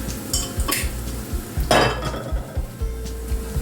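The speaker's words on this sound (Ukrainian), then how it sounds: "І так продовжуємо жарити, поки не вижаримо всю суміш" Onion and potato fritters frying in oil in a pan, with a low sizzle under repeated clinks and scrapes of a utensil against cookware, close by.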